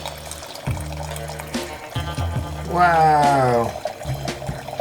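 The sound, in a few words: Pinot Noir wine poured through a Vintorio aerator pourer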